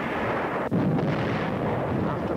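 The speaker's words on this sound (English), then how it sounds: "Our own artillery was brought to fall within 100 yards of our frontline elements." Artillery fire during the World War II battle at San Pietro, heard as a sustained, dense rumble of heavy blasts with a sharp burst partway through, loud and continuous with no speech.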